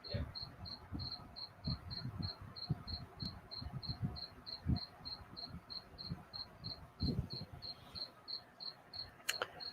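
A steady train of cricket chirps pulses evenly and continuously at night, short bright trills repeating rapidly, over soft low thumps and faint background rumble, with no voices.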